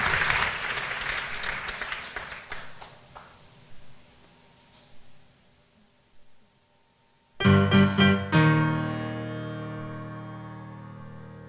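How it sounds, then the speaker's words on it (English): Audience applause for students of a piano duet club at one of their first public performances, a burst of clapping that fades into scattered claps before piano chords ring out and sustain. "we're going to give the students from our Piano Duet Club and our partnership with Carlow College of Music a huge round of applause"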